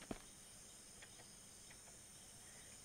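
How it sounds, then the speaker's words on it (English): Crickets chirp at night in the survival video game Mist Survival, a faint, steady high-pitched chirring alone in quiet surroundings with no voices. "When those crickets start going, you don't know what's coming."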